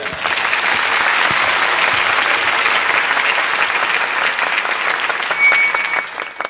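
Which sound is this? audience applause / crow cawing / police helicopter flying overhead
audience applause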